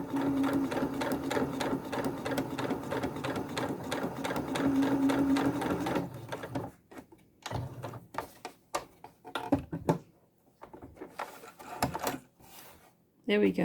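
A sewing machine stitches fabric in a steady continuous whir for about six seconds, then gives way to quieter handling noises and brief talk.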